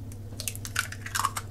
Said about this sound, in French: je vais commencer à casser mes œufs, donc un par un